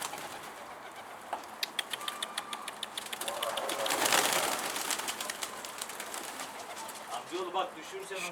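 Outdoor pigeons, including a tumbler pigeon flying in toward the loft, give soft coos and calls over a steady airy background, with a brief swell of wing and air noise midway while people talk nearby.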